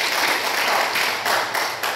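A church congregation applauds during a family-restoration sermon, a dense, steady wash of clapping that holds at a constant level throughout the brief moment, with no voices standing out.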